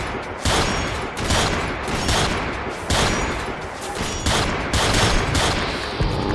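Sustained gunfire in Fallout 4, with an Immersive AutoMag mod weapon in a battle against a robot: dense, loud bursts of shots in rapid succession, pulsing in waves for several seconds with no talk.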